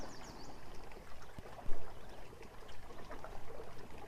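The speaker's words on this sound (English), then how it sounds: "take in the beautiful sounds of the water and the birds" Water flowing outdoors, a soft continuous babbling stream with scattered bird chirps and gentle breeze, fairly quiet and unbroken by talk.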